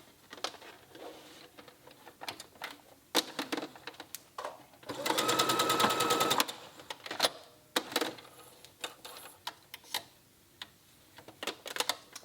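A sewing machine stitching gauze fabric for a top, one sustained burst of rapid mechanical whirring mid-way, surrounded by scattered clicks, taps and fabric handling sounds close by.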